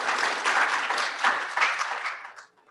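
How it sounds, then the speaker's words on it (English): A round of applause from the members at a Rotary club meeting, steady dense clapping for a couple of seconds that thins out and stops at the end. "We can have a round of applause."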